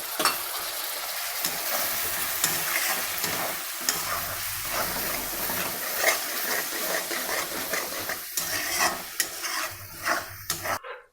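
A loud, steady sizzle of water hitting hot frying spices in a pan for a brinjal and potato curry, with stirring scrapes and crackles breaking through toward the end.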